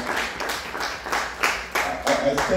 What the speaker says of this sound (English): Let's just clap our hands for everybody if we can.